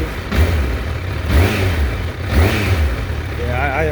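A 2018 Honda CBR1000RR sport motorcycle with a 189-horsepower engine: three or four close, throaty revs that rise and fall about a second apart over a rough idle.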